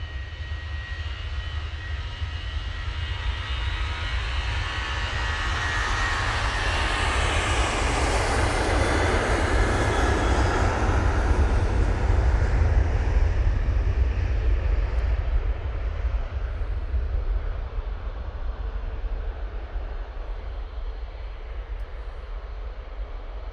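A KLM Boeing 737-800 rolls down the runway on its takeoff run at Manchester Airport, a loud, steady jet roar swelling to a peak midway and then slowly easing off, with no voices over it.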